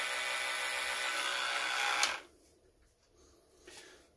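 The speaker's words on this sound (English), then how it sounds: "Fixed the free Makita multi-tool." Makita DTM50Z cordless oscillating multi-tool running after repair, a loud steady buzzing whine that cuts off sharply about halfway, followed by near silence and a brief faint click.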